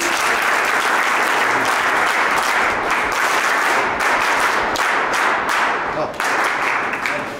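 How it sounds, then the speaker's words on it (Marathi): Loud applause from students at an ITI college event in Ambernath with actor Vikas Mahajan as chief guest, a thick sustained roar of clapping that thins near the end. "जोरदार टाळ्या प्लीज."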